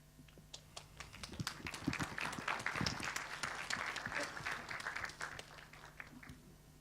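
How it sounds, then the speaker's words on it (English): Audience applause after a conference tech lecture, a dense steady patter of many hands clapping for several seconds at moderate level, swelling slightly in the middle before easing off. "Big applause again."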